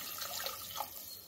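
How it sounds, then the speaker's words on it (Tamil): Coconut milk poured into a cooking pot for Kanyakumari-style kattu soru gives a steady, close liquid splash and trickle that lasts the whole moment, with no one talking. "நம்ம இந்த தேங்காய் பாலை விட்டுக்கலாம்"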